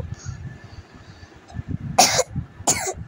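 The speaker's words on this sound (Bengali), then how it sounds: "ignore my Kashi" Two sharp coughs from a person nearby, in a supershop, standing out clearly over a low murmur of background store noise.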